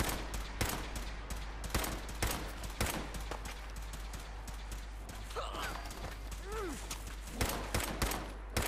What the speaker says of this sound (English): You're shooting each other, mate.